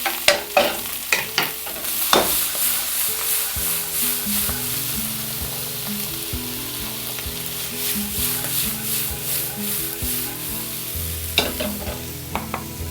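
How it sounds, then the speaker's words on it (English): White beans and chickpeas tossed into a hot pan with spring greens, sizzling steadily with stirring scrapes and a few sharp clatters. "I'm going to take some of my white beans and toss them in"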